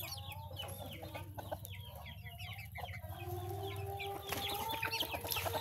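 Chickens cluck and chatter continuously nearby, with overlapping calls from several birds over a steady low background hum.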